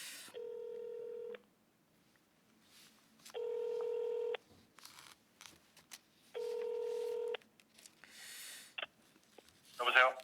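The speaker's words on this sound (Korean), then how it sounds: "전화 연결을 해볼 텐데요" Touch-tone dialing while a phone call is placed: three long steady tone bursts separated by pauses, clear and moderately loud, followed by faint clicks and a short burst of noise near the end.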